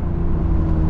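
Steady, loud engine drone from a BMW M4 fitted with an aftermarket exhaust, a deep continuous rev with strong low harmonics held throughout the short moment, close by and without any speech.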